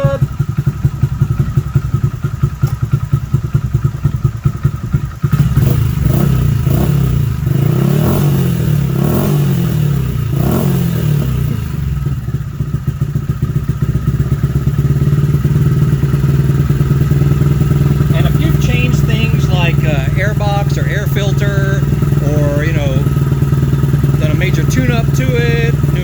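Honda Grom 125 motorcycle engine idles with a steady low putter, a burst of revving and clatter partway through, then settles back to a smooth idle while a person talks over it.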